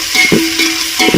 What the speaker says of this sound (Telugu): అవన్నీ మంచిగా ఇక్కడ ఆయిల్లోనే బాయిల్ అయిపోవాలి